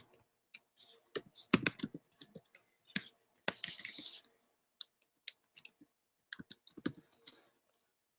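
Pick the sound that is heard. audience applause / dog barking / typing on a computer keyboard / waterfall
typing on a computer keyboard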